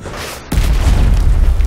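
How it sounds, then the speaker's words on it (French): A grenade detonates in Battlefield 4 with a sudden loud, deep boom that drops into a heavy low rumble and roar, very close and overwhelming. "Saleté de grenade."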